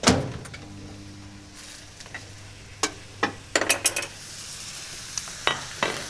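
Rice with squid and bok choy being stir-fried in a hot pan, with a faint sizzle, a sharp opening clatter and a series of scattered metallic knocks and scrapes from tossing and stirring, close by.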